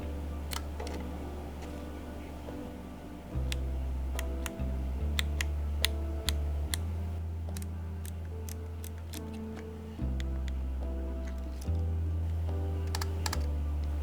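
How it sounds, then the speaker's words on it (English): A rare Leica street photography camera's shutter fires repeatedly, giving sharp, quiet, close-miked clicks scattered irregularly over a steady low electrical hum, with no voices. "And that's the sound of the shutter."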